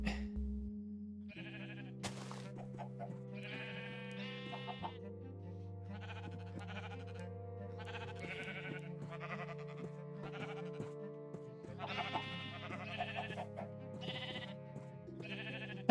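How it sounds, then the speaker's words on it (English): Minecraft sheep give a string of close, clear bleats, some overlapping, over a sustained low tone. Other farm animal sounds may be mixed in, and there is no speech. "pull the sheep up here so that they are on top of the farm"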